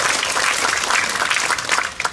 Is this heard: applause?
yes